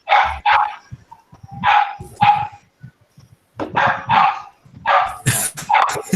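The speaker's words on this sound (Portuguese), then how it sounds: "Tem um cachorro aí muito animado." Fred, an excited pet dog at home, barks repeatedly in bursts of sharp yips and woofs, loud and close, with brief pauses between volleys.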